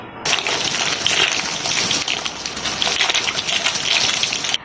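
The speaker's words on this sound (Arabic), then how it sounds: "جبت حله وحطيت فيها ميه علشان تغلي" Water gushes steadily into a cooking pot being filled to boil for pasta, a loud, continuous pour lasting several seconds with no talking.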